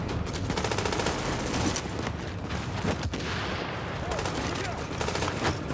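Rapid gunfire in Tom Clancy's The Division, dense overlapping automatic bursts and fusillades that run almost without pause, loud and close, with a brief lull midway.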